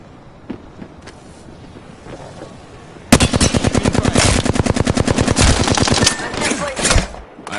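Video game gunfire. Quiet scattered noises give way to a loud, sustained rapid-fire burst of automatic weapon shots that lasts several seconds before cutting off.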